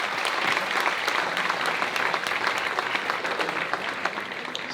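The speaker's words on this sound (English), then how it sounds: "Can we please give them a round of applause?" An audience claps for a high school orchestra at a band camp concert: a dense, steady round of applause that holds at a constant level throughout.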